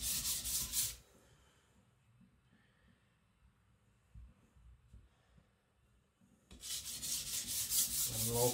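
A custom Chinese cleaver is rubbed across a sharpening stone with light, even pressure, giving a loud gritty scraping at the start, a long quiet stretch of faint low rubbing, then the loud strokes resuming near the end.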